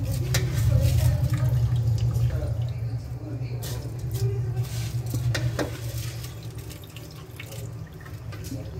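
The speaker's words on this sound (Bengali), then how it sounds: "চালটা ভালো করে ধুয়ে চালটা দিয়ে দিচ্ছে।" Washed rice tipped into a pot of boiling dal for homemade khichuri, heard as a sustained watery splashing and bubbling close by over a low rumbling hum, with light clinks.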